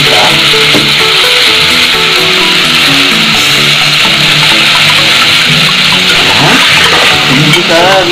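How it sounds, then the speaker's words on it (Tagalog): Spoon scraping and rubbing steadily through salmon sinigang in a pot. The stirring is loud, close and continuous, with no one speaking. "Haluin lang natin siya."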